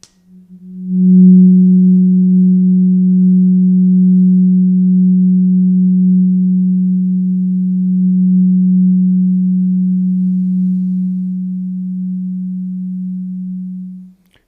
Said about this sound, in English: This is the sound of Jupiter